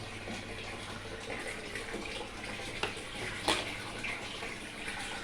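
Water gurgles and rushes through newly set up saltwater aquarium plumbing as the siphon starts, a continuous trickling flow with a few sharper splashes and drips.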